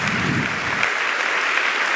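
Congregation applauding during a church service, a dense, steady wash of clapping that stays loud and even throughout without any speech over it.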